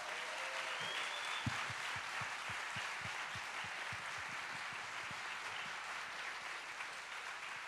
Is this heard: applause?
yes